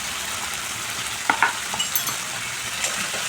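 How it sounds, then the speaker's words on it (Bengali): Turmeric, cumin, coriander and Kashmiri chili powders frying on low heat for Bengali prawn malai curry, a soft, even hiss with a couple of brief spoon scrapes near the middle, close and steady. "সব কিছু মশলা ভালো করে কষিয়ে নেব অল্প আঁচে।"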